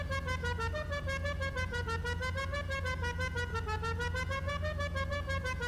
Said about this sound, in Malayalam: നമുക്കപ്പോൾ ഹോൺ അടിച്ച് നോക്കാം.